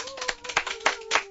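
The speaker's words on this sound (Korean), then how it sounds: "박수!" A studio audience claps in quick bursts on a Korean radio talk show, sharp hand slaps arriving in a brief flurry of about half a dozen loud peaks, with a steady tone underneath.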